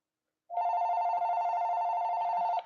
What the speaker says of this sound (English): There's your phone again, Shaggy.